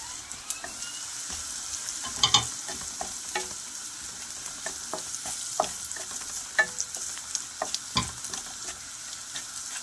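Spices with salt, turmeric, red chili, coriander and cumin powder sizzle steadily in a hot pan with a continuous crackling hiss, punctuated by scattered pops and occasional scraping stirs, up close.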